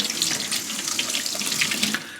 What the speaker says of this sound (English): When you are rinsing off the soap and you're getting ready to finalize this process, you want to make sure that all soap is out of your sponge.